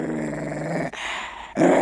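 A dog growls low and rumbling at close range in two long stretches broken by short pauses, and the last burst swells louder and harsher.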